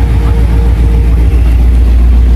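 Low engine rumble from a sports car idling or rolling past at a cars and coffee meet, likely a Hellcat, steady and fairly loud with no break across the moment.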